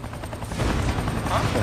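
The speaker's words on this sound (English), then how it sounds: "The helicopter." A helicopter in the video game XIII gives a loud, steady rotor thrum with a rapid chopping pulse, mixed with what may be distant gunfire.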